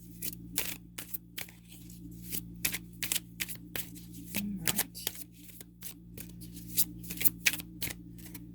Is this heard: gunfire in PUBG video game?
no